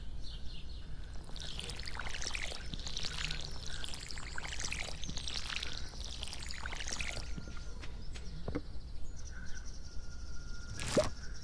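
Watering crops with a watering can in Stardew Valley, a series of soft repeated pouring swishes in a regular rhythm, followed by a few sharper plops and chimes near the end, with no talking.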